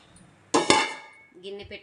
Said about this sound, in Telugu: గిన్నె పెట్టుకుందాం.